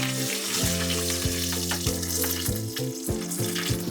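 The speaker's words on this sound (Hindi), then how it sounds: "अब मैं इसमें कड़ी पत्ता डाल रही हूँ" Curry leaves sizzle and crackle in hot oil for a tempering, a loud, steady frying hiss with pops, over low sustained musical tones.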